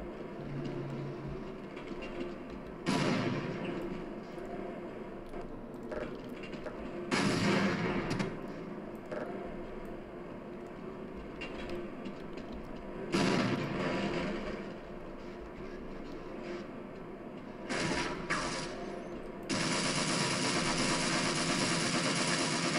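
Bursts of gunfire in the video game Half-Life, loud broadband blasts at irregular intervals over a constant rumbling background, ending in a sustained harsh roar.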